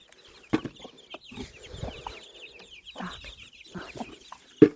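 Young hens and bantams cluck softly and repeatedly nearby in a flowering garden, with a few louder squawks and scattered rustling in the background.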